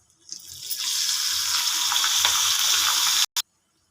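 Tempering of spices, asafoetida, turmeric and curry leaves, hits hot oil for pepper rasam, erupting into a loud, continuous sizzle that holds for about three seconds, then cuts off abruptly with one short final burst.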